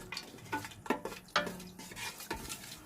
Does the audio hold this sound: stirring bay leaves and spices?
yes